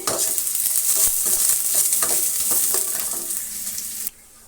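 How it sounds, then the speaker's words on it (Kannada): Finely chopped onions fry in about two spoonfuls of oil for an okra stir-fry, a loud, dense sizzle with stirring scrapes that cuts off abruptly near the end. "ಆಯಿಲನ್ನು ಹಾಕ್ತಾಯಿದ್ದೀನಿ ಅದರ ಜೊತೆ ನೋಡಿ ಸಣ್ಣದಾಗಿ ಕಟ್ ಮಾಡಿರುವಂಥ ಈರುಳ್ಳಿ ಹಾಕ್ತಾಯಿದ್ದೀನಿ ಚೆನ್ನಾಗಿ ಫ್ರೈ ಆಗಲಿ"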